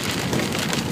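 Rain pours steadily onto a road in Corlu, a dense, loud, continuous hiss of drops close by with no pauses.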